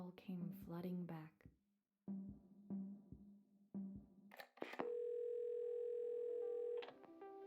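A telephone in a video game is picked up and a number is dialled. A short run of tones plays first, then one long steady tone, with a few soft clicks and handling noises between them.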